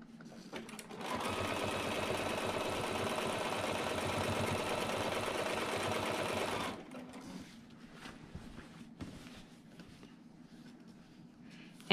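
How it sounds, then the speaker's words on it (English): A sewing machine back stitches quilt binding with a steady, fast mechanical whir for about six seconds, then stops and leaves quieter handling sounds. "And I am gonna back stitch because I definitely want that to be held into place."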